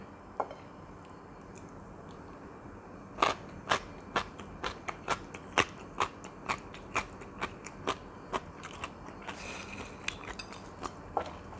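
Crunchy fried rice fish being bitten and chewed up close, a run of sharp, crisp crunches in a fairly regular rhythm, alone against a quiet background.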